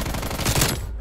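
Automatic AK-47 gunfire in Call of Duty: Cold War, a dense, loud burst of rapid shots lasting about a second before cutting off sharply.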